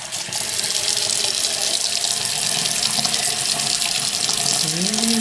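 Water runs steadily from a tap over a makeup brush being rinsed in a sink, a loud continuous splashing stream heard close up without talk.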